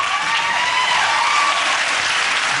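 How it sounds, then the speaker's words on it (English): Studio audience at a television talk show clapping loudly and steadily, a thick wash of applause that continues for nearly three seconds. "There's no point clapping"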